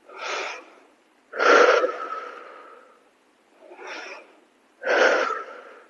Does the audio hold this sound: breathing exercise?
yes